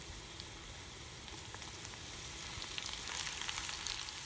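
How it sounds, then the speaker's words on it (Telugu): Curry leaves fry and sizzle in hot oil for dondakaya pachadi, a dense crackling hiss with scattered pops that grows slightly louder toward the end, close up and with no talk. "ఇప్పుడు కరివేపాకు వేసుకోవాలి మనం."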